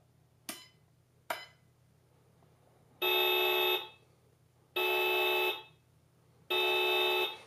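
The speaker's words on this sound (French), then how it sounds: "On a également un klaxon sur cet inter-là." Horn of a 1/10-scale Hummer M1025 RC toy car sounds three times in even, sustained electronic honks, each lasting under a second, preceded by two sharp clicks.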